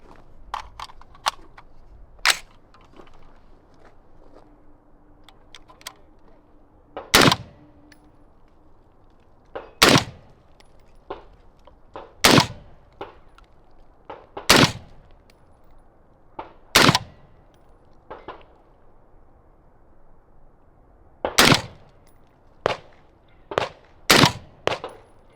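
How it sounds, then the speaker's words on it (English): Ten rounds of 62 grain 6mm Max are fired one at a time from a 10.5-inch SOLGW rifle, sharp loud gunshots spaced irregularly a few seconds apart, quieter handling noise between them. "now we're gonna try 10 rounds of 62 grain 6 Max"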